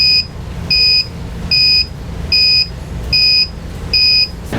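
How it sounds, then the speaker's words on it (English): A Roadmaster motorhome breakaway alarm on a 2017 Freightliner sounds in loud repeated beeps, six short, evenly spaced high tones close by over a low rumbling background. "when the brakes stay applied for about 10 seconds, you'll hear the alarm."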